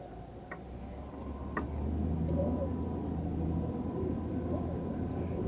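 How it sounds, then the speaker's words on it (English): Interior of a car pulling away from a food pantry, a low steady engine and road rumble with a couple of faint clicks, building slightly as it drives off. "driving away from the food pantry now"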